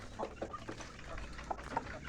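Free-range village chickens (ayam kampung) on an Indonesian poultry farm cluck in short, scattered calls over a low, steady background hum, fairly faint and at a moderate distance, with no talking.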